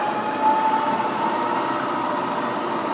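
Webb vertical milling machine running at speed, a steady high-pitched mechanical whir with a faint tonal whine, continuous and even throughout the short stretch with no voices.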